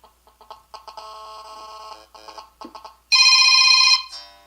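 An old default Android ringtone plays as short electronic melodic blips in an irregular pattern, then a louder sustained bright burst near the end before cutting off, clear and close with no talking.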